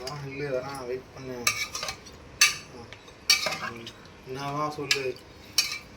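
A spoon clanks and scrapes against a pot as country chicken curry is stirred and mixed. Several distinct metallic knocks are spread across the clip, with voices talking over and between them.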